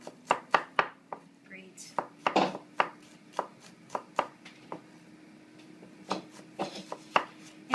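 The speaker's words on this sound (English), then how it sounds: "So we've got our fresh garlic here, about 4 cloves. Just take the tips off." Fresh garlic cloves being chopped with a knife on a board, a run of sharp, close, irregular thuds and clicks, with one brief spoken word in between.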